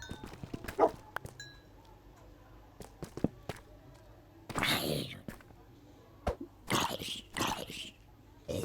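A tamed dog in the Minecraft video game barks in short, sharp bursts scattered through the clip, mixed with game sound effects while people talk and whisper over it.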